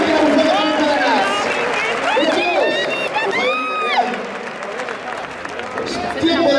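Crowd clapping and cheering for recortador Javi at a night bull-leaping contest in Alcalá de Henares, dense sustained applause with whoops, mixed with shouting voices and an announcer talking over it.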